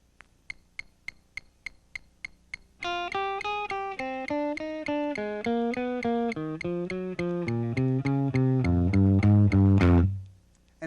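A Seiko metronome set to 200 beats clicks steadily at first, then a rock guitar exercise joins in as a rapid run of evenly picked notes that climbs and descends, loud and close, before ending in a final low note.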